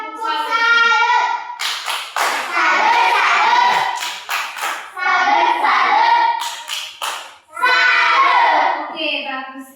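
A class of schoolchildren in an Indonesian science lesson gives a rhythmic group chant with sharp claps after a group presentation, the voices loud and close and the claps in short bursts between the chanted phrases.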